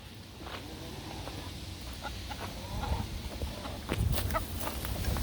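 Chickens cluck outdoors in a freak wind storm, with short calls scattered through a roar of gusting wind that swells toward the end.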